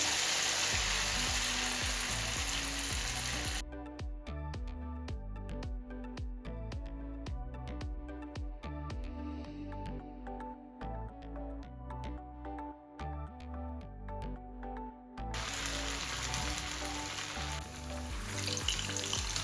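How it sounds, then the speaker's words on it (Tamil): Lentil vadas deep-frying in hot oil, a dense, steady sizzle that starts loud, drops back while the fritters cook through, then swells to a full roar again near the end, with no talking. "இப்போ நல்லா பொரிஞ்சு வரட்டுக்கும்."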